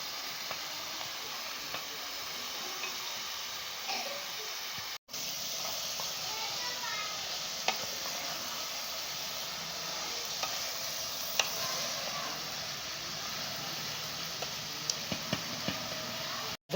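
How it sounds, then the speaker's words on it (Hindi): Food fries in a pot with a constant broad hiss and sizzle, and a spoon stirs it now and then. The sound stays fairly close and even. "तो अब हम इसको 5 मिनट तक फ्राई करेंगे।"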